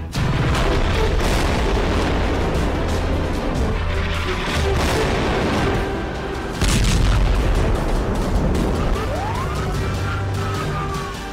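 Heavy booming blasts land at intervals over a constant roar, with a siren-like rising whine near the end; explosions sound loud and close.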